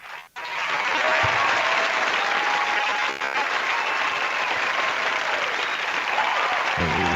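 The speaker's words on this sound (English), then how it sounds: "Let's get a clap" A crowd breaks into loud, sustained applause and cheering that continues steadily for several seconds.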